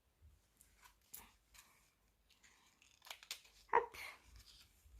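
Scissors snipping through packaging while unwrapping a gift, a few quiet scattered cuts followed by a sharper, louder snip near the end, with faint rustling and no talking.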